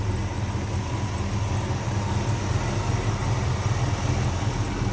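Idle of a 1957 Chevrolet Bel Air's 350 V8 with Edelbrock carburetor, Pro Comp intake and aluminum radiator: a steady, smooth low rumble held at even volume throughout, close and alone with no talk.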